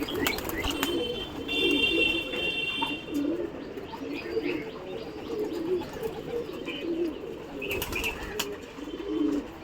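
Pigeons, including young birds, coo steadily through a loft or landing area during training, with soft chirps and occasional wing flaps mixed in, fairly close and continuous.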